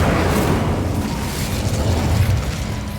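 A spell explosion in Hogwarts Legacy roars as a loud, sustained rumbling blast, dense low booming that holds steady for a few seconds with no break.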